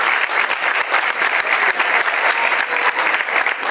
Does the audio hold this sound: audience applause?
yes